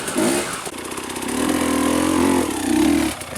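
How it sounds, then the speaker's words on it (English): Enduro motorcycle engine on a steep hill climb with minimal traction, revving loudly and close by, rising and surging for several seconds with no talk over it. "He took a lower line and couldn't get up, so Brad is helping get his bike through."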